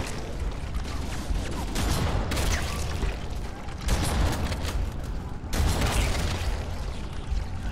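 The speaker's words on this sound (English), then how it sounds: "Shotgun." Shotgun blasts from Halo: Combat Evolved in the Master Chief Collection, three loud broadband bursts spaced a couple of seconds apart, each followed by a mechanical pump-action rattle, over dense game noise.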